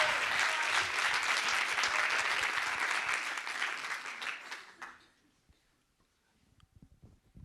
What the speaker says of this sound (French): tu m'auras un tonnerre d'applaudissements